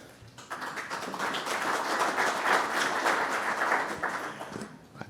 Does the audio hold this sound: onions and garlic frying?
no